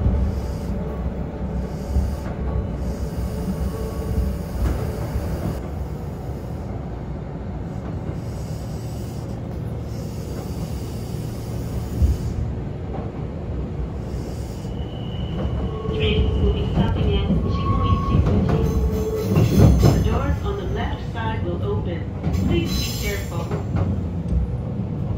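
Aboard a Kintetsu rapid express bound for Yoshino, the carriage rumbles steadily after leaving Yoshinoguchi station, a low continuous rolling hum with occasional clanks and a brief high squeal, under intermittent speech.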